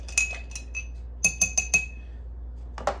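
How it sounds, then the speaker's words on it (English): Jameson whiskey stirred over ice in a mixing glass, giving a run of bright glassy clinks: a few near taps, then a quick cluster of four, and one last clink, with no talking. "Give it a good stir."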